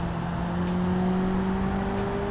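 A truck accelerating in the driving game BeamNG Drive, a steady engine drone with a constant hum that holds level and loud throughout, with no speech.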